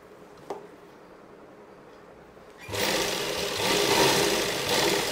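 After a short quiet lead-in with a small knock, a sewing machine starts and runs steadily, a close rapid mechanical whir with a slight speed swell midway while it stitches around the armhole of a pregnancy dress.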